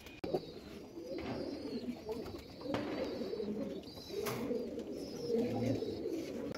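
Pigeons in a pigeon loft coo in soft, throaty, repeated phrases that overlap one another. Fainter chirps and rustling sit underneath, and no one speaks.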